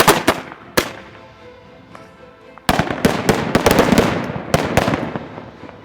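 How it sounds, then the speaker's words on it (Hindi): An electrically fired stun shell from a multi-shot riot launcher goes off in a series of loud, sharp blasts, a few spaced bangs followed by a dense rapid cluster of cracks with reverberating tails. "Now stun shell electric single shot fire, fire for effect, fire."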